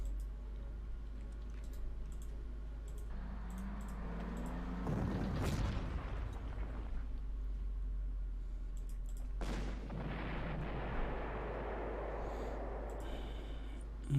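Wartime bombing explosions in the Panzer Corps strategy game come as two heavy booming blasts several seconds apart, each a loud burst that rolls off into rumble over a low constant hum.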